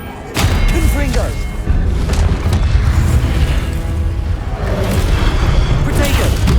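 The Confringo fire-blast spell in the Hogwarts Legacy video game erupts in heavy, booming explosions, loud and dense with rumbling low-end thumps, layered under shouted spell incantations and other combat sounds.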